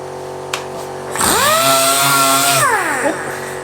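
A power sander with a 320-grit disc spins up on a rusty, pitted cast iron table saw top, whining loudly with a rising then falling pitch for about a second and a half before winding down.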